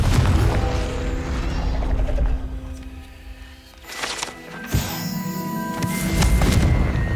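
Spell-casting effects in Hogwarts Legacy, an explosive blast with crashing debris and magical whooshes, followed by mechanical creaks and chiming tones, loud and close throughout.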